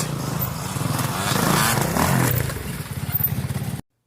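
A 1990 Kawasaki KX250 two-stroke dirt bike engine revs up loudly nearby, rising to a raspy high pitch, then dropping to a rapid crackling idle before cutting off abruptly.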